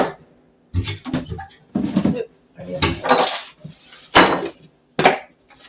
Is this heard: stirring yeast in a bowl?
yes